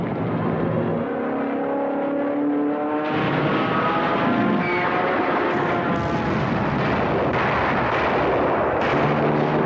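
Dense, continuous barrage of anti-aircraft gunfire during the Battle of Midway, with rapid overlapping bursts and booms, loud and sustained, with a droning aircraft engine tone running underneath.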